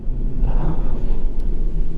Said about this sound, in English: I've never driven a truck before